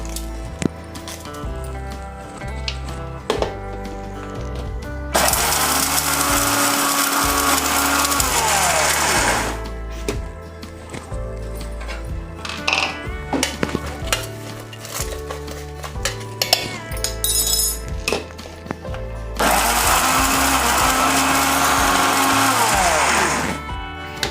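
An electric mixer grinder whirs loudly, pulverising guava leaves into a paste for a spicy powder, in two sustained bursts separated by quieter clattering and handling of the jar.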